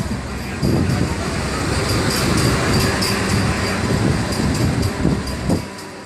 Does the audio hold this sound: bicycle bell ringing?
no